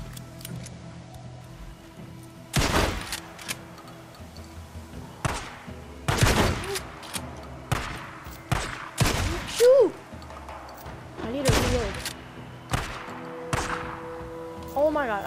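Pistol gunfire in the video game Days Gone, with sharp single shots cracking out at irregular intervals across the fight, mixed with other impacts and game noise, while a player talks excitedly over the action.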